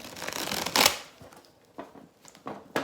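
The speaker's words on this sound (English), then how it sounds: "cards should be easy to shuffle" A stiff new deck of oracle cards is shuffled by hand, a close papery riffle burst followed by softer scattered flicks and taps of cards being gathered.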